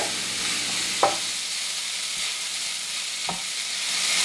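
Tofu cooking in a pan with a seasoned mixture for a tofu scramble gives a steady broad sizzle, broken by a few sharp clinks and scrapes of a utensil stirring the pan.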